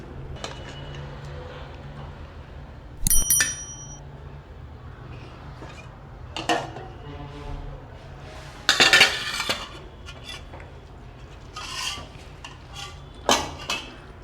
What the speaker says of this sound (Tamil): சர்க்கரை பாகு சேர்த்துப்போம். சேர்த்து இதுமாரி நைஸாக உதுத்து விட்டுக்கலாம்.